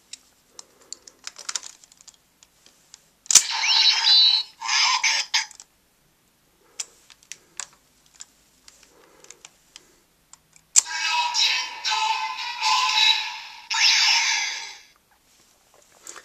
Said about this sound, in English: what you heard there was a different rocket on sound